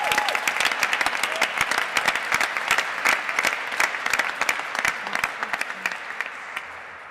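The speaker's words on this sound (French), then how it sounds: "On peut l'applaudir encore," An audience claps steadily for a new unit chief at a changeover ceremony, with sharp individual claps close by over a dense wash of applause that thins and fades toward the end.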